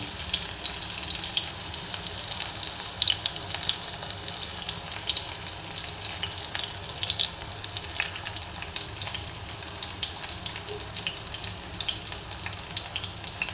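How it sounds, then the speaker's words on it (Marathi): Chopped garlic and green chili fry in a pan with a dense, even sizzle that crackles steadily up close for the whole stretch, nobody speaking. "हे जरा थोडंसं असं फ्राय करून घ्यायचं आहे, जेणेकरून त्याची चव चांगली भाजीला लागेल"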